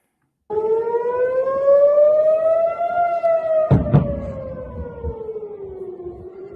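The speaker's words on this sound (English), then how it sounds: "the video will contain sirens if you're watching from the Middle East" A civil defense siren wails across northern Israel, one long steady tone that slowly rises and then sinks, distant but clear, broken briefly by a short thud partway through, with no voices.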